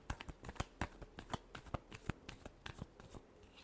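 A deck of tarot cards is shuffled in a quick run of crisp riffling snaps and flutters, close and soft.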